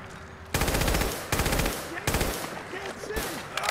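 Automatic gunfire from the video game Fallout 4 rips out in loud, close bursts of rapid shots, three long strings separated by short pauses, followed by scattered shots and a faint voice.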